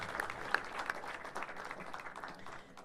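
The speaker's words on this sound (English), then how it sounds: "A round of applause, ladies and gentlemen," An audience at a climate summit applauds panelists, with a short burst of clapping heard from a moderate distance in a large hall that fades toward the end, with no talk over it.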